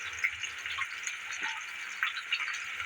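Mustard seeds and small ginger pieces hitting hot oil in a pot while making cashew upma, giving a steady, moderate crackling hiss with a few louder pops throughout.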